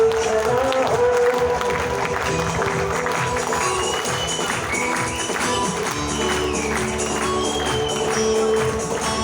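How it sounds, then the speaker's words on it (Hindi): Standing audience applauding loudly at an RCM seminar, a dense sustained wash of clapping with crowd noise running throughout, with faint voices mixed in. "खड़े होकर ताली बजाएंगे एक बार जोरदार"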